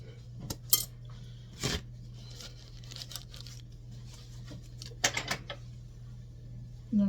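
Knife peeling apples for an old-fashioned apple stack cake, with quiet scattered scrapes and a few sharp clinks over a low steady hum, no speech.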